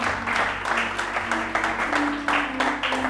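A church congregation applauds and cheers during a French-language worship service: steady, loud clapping pulses in waves, with sustained tones humming underneath.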